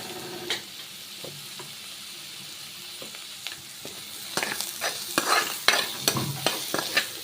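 Turmeric and a little chili powder fry in hot oil while being stirred, with a soft steady sizzle under irregular spoon scrapes and clinks that grow busier and louder toward the end; no talking.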